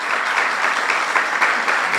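Strong audience applause for a Dominican author and university professor at a Caribbean social sciences and human rights panel, a steady dense wash of clapping throughout with no speech over it.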